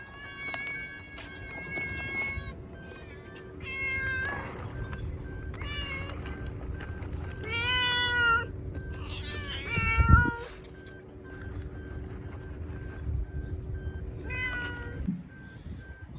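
A cat meows repeatedly, several drawn-out, wavering calls spread across the stretch, fairly close and clear over a steady low hum of background noise, with no one talking.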